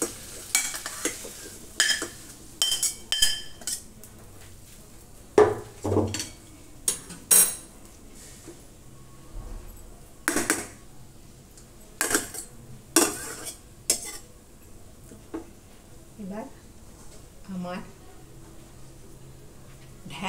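Okra, potato and onion stir-frying in a pan, heard as repeated sharp clinks and scrapes of a spatula against metal spread irregularly over a soft background sizzle.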